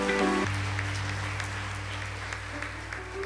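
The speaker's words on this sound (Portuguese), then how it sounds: "Pode dar um aplauso bem forte ao Senhor." A church congregation at a worship service claps in scattered, fairly faint bursts over a sustained keyboard chord.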